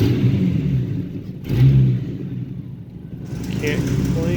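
A Jeep Cherokee XJ engine running with a slight exhaust leak gives a steady low rumble with a brief swell partway through, heard close up alongside a speaking voice.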